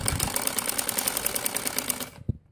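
A sewing machine stitches a kalidar frock with a fast, steady run of rhythmic stitching that stops abruptly near the end, followed by a single soft thump, with no voices.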